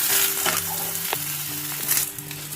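Mixed winter vegetables fry and sizzle in a pan, with a steady hiss broken by a few sharp scraping strokes of stirring, close and fairly loud with no talking.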